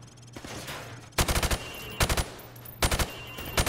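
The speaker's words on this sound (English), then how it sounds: "Now, shoot at the targets while firing from the hip." Rifle fired from the hip at training range targets in Call of Duty 4: Modern Warfare Remastered, with three loud rapid bursts of five or six shots each over a faint background hum.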